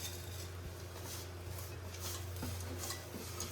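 Vermicelli tossed with butter and ghee in a wide pan over low heat, soft scraping stir strokes and faint sizzling under a steady low hum, quiet and continuous.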